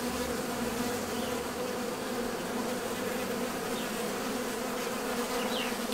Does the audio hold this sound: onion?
no